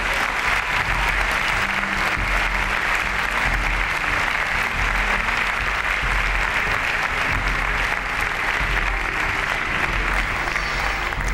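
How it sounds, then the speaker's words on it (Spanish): A church congregation gives sustained, loud applause, with dense clapping and cheering that continues steadily for the full stretch over a low background hum. "Demos un aplauso al Rey."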